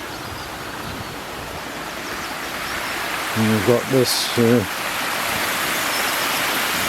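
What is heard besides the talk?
water discharging from canal lock overflow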